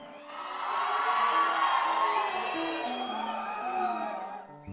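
A crowd at a tenth-anniversary TTA stage celebration breaks into loud cheering and whooping, many voices swelling into a sustained roar for several seconds before easing off toward the end.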